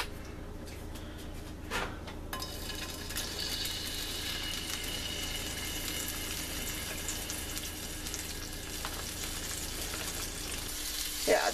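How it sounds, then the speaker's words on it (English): Sauerkraut sautéing in a little leftover butter in a pan gives a steady, close sizzle throughout, with a few stirring scrapes near the start and no talking. "now I'm going to saute my kraut"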